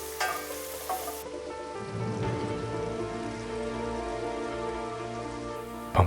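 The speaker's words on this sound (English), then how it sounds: "Saute for a couple of minutes" Carrots sizzling in two tablespoons of chili oil in a pan over medium heat, a dense crackling fry that fills the whole stretch with no talk.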